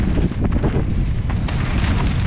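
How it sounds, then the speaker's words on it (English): Strong wind on Black Mountain during downhill mountain biking roars and buffets without pause, a dense low rumble that stays loud from start to finish. "It's windy up here."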